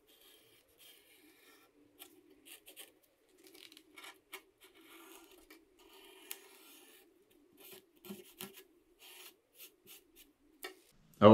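A felt-tip permanent marker traces an outline onto a template for a simple homemade spear, making quiet, intermittent scratchy rubbing strokes in short bursts close up, with no one speaking.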